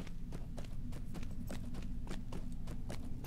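Goat mount hoofsteps in the video game Lord of the Rings Online, a steady, quick clip-clop of hooves trotting close by, with no talk over them.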